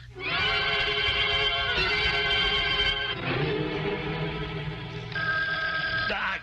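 A telephone bell rings loudly and continuously in a studio setting, its repeated ringing bursts running for several seconds with a change of tone partway through.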